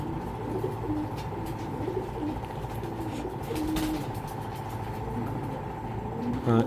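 Soft, repeated cooing of racing pigeons murmurs at close range over a constant low hum, with occasional brief bursts of other bird noise.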